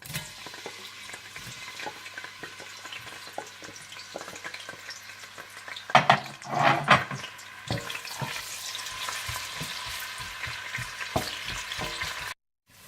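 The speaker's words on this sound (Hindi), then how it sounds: "इसके बाद आप देसी घी गरम कर लें और इसमें प्याज डालकर इन्हें आप गोल्डन ब्राउन कर लें।" Onions fry in hot desi ghee toward golden brown, a close, steady crackling sizzle with intermittent spoon clinks and a louder burst of stirring midway, ending in brief silence, no one speaking.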